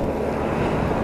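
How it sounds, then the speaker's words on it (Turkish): Strong gusting wind buffets the microphone over rolling sea waves during a stormy night motorcycle ride, a loud, dense and constant rumble with no break. "Sert rüzgar. Sağdan soldan duran rüzgar. Denizleri köpük köpük. Dalga."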